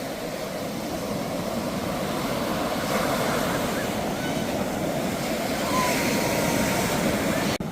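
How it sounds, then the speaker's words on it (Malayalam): Sea waves break continuously at Kootayi Beach in Padinjarekkara, a loud, steady roar of surf with a wash of wind noise, close and unbroken throughout. "നല്ല തിരമാല അടിക്കുന്നുണ്ടോ"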